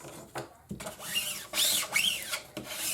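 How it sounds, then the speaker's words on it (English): A scraper rubbed firmly across vinyl laid on a screen-printing screen, close and fairly loud, in several quick back-and-forth swipes with short gaps, each stroke rising and falling in a scratchy arc. "And then take your scraper again."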